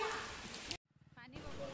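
Rain falls steadily on surrounding surfaces outdoors, a dense hiss that drops away for a brief pause midway as faint voices come through, then returns.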